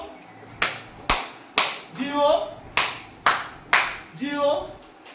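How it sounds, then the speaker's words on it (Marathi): Hand claps keep time in the B-I-N-G-O children's song: two sets of three sharp, close claps, each set followed by a short sung or spoken syllable between them. "BIN ऐवजी 3 टाळ्या वाजवायच्या, फक्त पुढे GO उच्चार करायचा"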